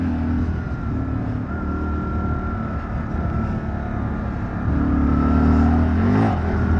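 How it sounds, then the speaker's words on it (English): Engine of an off-road vehicle on a dirt trail during a wheel stand attempt, droning steadily with tonal harmonics, then swelling louder and rising in pitch near the end as it revs hard. "Try and wheel stand this thing."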